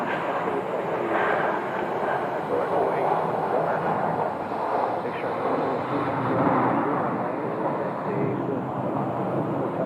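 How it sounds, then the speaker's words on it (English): An airliner landing on runway 25 right at Phoenix Sky Harbor, heard as a steady, broad jet roar that holds at an even level for the whole stretch, with some wind rumble underneath. "I like runway 25 right landings because we can actually see them touch down right in front of us."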